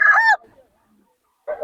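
Fowl call out close by in a poultry market, a loud honking, crowing cry followed by silence and then the start of a second shorter call.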